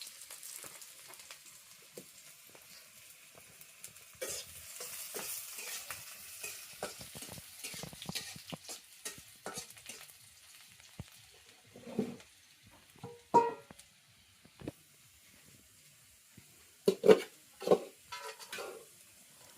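Onions frying in a pot while being stirred, heard as a quiet sizzle with scattered scrapes and clinks that grow louder and more frequent toward the end.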